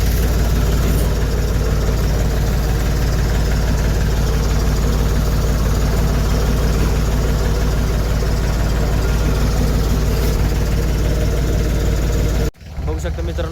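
A tractor engine idles loudly and close by, a steady low, rumbling drone that holds unchanged for about twelve seconds before cutting off abruptly near the end.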